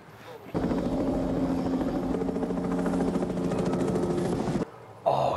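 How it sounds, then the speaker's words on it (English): A helicopter from the 1988 film They Live drones steadily overhead with a loud, continuous rotor thrum for about four seconds, set against a film soundtrack, before cutting off. "the helicopter's been going around this whole time"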